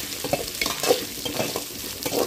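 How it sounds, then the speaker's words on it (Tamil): Onions sauté in a pan with a light pinch of salt, giving a close, continuous sizzle broken by repeated scraping stirs of a utensil against the pan over a couple of seconds, with no voices. "நான் வந்து அந்த ஆனியன் வந்து நல்லா வதக்குறேன்"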